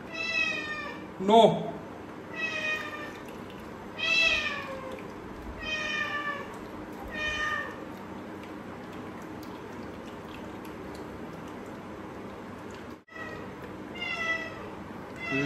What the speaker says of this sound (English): This is my cat. She's trying to jump in from outside.